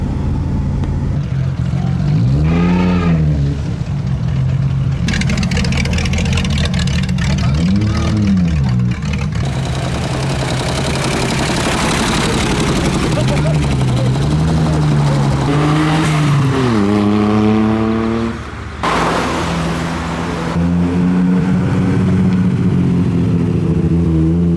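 Classic and modified cars leave a car show one after another, with loud revving engines rising and falling in pitch, several passing close by, and some tire noise. Voices are heard at times beneath the engines.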